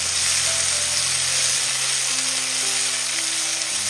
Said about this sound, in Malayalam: ഇതിലേക്ക് ഇട്ട് കൊടുക്കുക. പൈനാപ്പിളൊക്കെ ചെറുതായിട്ടൊന്ന് വാട്ടിയെടുക്കുക.